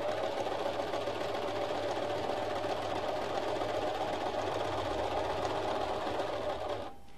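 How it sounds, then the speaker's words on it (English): Sewing machine stitching around a fabric heart, a steady close mechanical chatter that runs continuously and then stops abruptly near the end. "now you just need to sew around your heart, but make sure you leave a gap so you can stuff your heart together"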